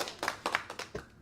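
A short burst of hand clapping, about five distinct claps in quick uneven rhythm from one or a few people close by, brief and fairly quiet with no talking.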